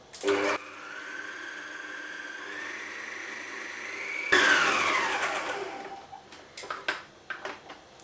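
An electric mixer whisks egg whites sprinkled with salt, giving a steady whirring drone that rises slightly in pitch before a louder burst of handling clatter and a few knocks.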